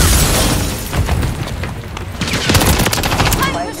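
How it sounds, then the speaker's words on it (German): Dense gunfire in the Modern Warfare 3 beta on the multiplayer map Highrise, with rapid automatic bursts and sharp cracks overlapping loudly and continuously, and a few brief muffled voices underneath. "Hier überall welche schießen."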